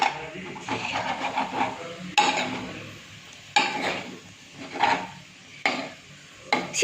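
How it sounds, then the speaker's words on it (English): Potatoes frying in a pan with the lid off, being stirred and spread, give a soft sizzle under repeated sharp scrapes and clinks of a utensil against the pan, close by and with no talk. "Now again open the lid and fry it. Just spread it in the pan."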